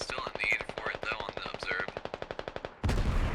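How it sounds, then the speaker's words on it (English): Artillery barrage in a war video game about tanks: a rapid rhythmic train of sharp repeated blasts under a voice, then a sudden heavy roaring impact at the end. "artillery is about to land"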